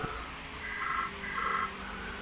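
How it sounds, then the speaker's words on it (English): A telephone rings twice in a room, two even bell-like trills with a short gap between them, set against a steady background hum. "the phone goes"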